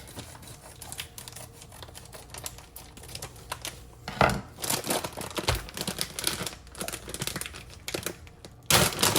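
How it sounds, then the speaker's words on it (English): A plastic bag of pre-mixed bonsai soil crinkles and rustles irregularly up close, with sharper crackling bursts and handling noises, no voices. "Sorry for the crinkling plastic."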